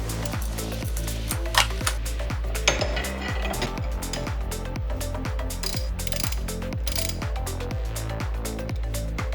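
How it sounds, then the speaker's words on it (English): A ratchet clicks in a fast, steady run of metallic pawl ticks while unscrewing the pulley on a 12-volt, 100-amp car alternator, close and continuous with no talk. "Now we can unscrew the pulley without the bearing rotating."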